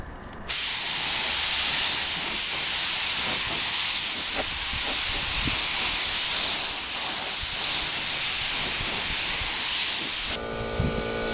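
A paint gun spraying a motorcycle part on an FZR cafe racer restoration, a loud continuous close hiss that starts abruptly, holds steady for about ten seconds with slight swells, then cuts off.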